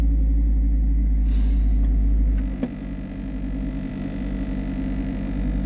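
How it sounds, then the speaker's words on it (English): A 1995 Mazda Miata engine, fresh from new spark plugs and wires, cranks over with a loud low rumble that settles after a couple of seconds into a steady, slightly uneven idle, close by with no talk. "go ahead and give her a crank and see how our plug and wire job went"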